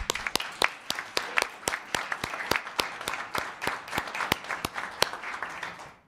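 Applause from a town council meeting audience after a presentation, a run of distinct claps from a modest group, fairly close, fading out at the end with no speech.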